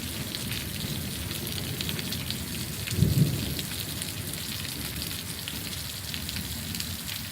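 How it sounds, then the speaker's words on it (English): Steady rain from a leftover night rainstorm and thunderstorm, heard from a garage, a dense even hiss throughout with one brief low rumble or thud near the middle. "This is a leftover piece of rainstorm and thunderstorm from that night."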